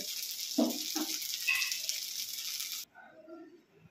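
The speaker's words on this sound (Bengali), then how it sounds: "আর এক পিস করে ভাজা হচ্ছে, একটু এখনো কাঁচা রয়েছে, খুব সাবধানে ভাজতে হবে।" Chhena balls coated with rice flour fry in hot oil, a steady, bright sizzle that cuts off abruptly, leaving a few faint knocks and rustles.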